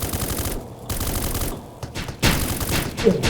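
Gunfire in the Roblox game Black Hawk Rescue Mission 5 during a zombie-hunting event: loud, dense bursts of rapid automatic fire that overlap almost without pause.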